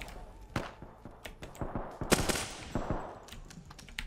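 Rapid automatic gunfire in the video game Apex Legends, bursts of sharp shots cracking in quick succession at moderate loudness, with faint voice underneath.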